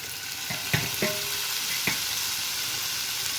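Cauliflower and tomato sizzle steadily in a hot pan, a dense close frying hiss broken by a few sharp clinks of stirring.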